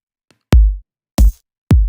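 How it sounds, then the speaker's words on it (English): A programmed kick drum added to a hi-hat pattern: three deep, punchy booming hits with a bright click on top, loud and close, spaced about half a second apart, with no voices. "Like, let me add a kick."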